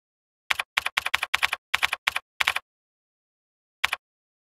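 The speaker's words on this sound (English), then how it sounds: "Here you can type whatever you want to appear in the start menu." Bursts of computer keyboard typing on a Windows XP machine, a quick run of eight clustered keystroke flurries followed by a pause and one final isolated burst, close and clear with no talking.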